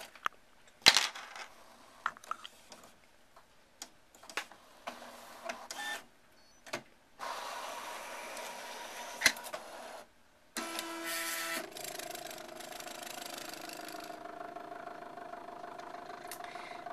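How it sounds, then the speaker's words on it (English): An electronic craft cutting machine working through a sheet of small labels, soft clicks and short motor whirs at first, then longer steady mechanical buzzing passes with brief pauses between, quiet and close. "my machine is finishing up cutting this sheet of those little labels"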